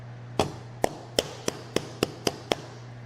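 A mallet pounds meat to tenderize it for a marinade: eight sharp, dull thuds at a steady, fairly quick rhythm, close by and moderately loud, with no talking.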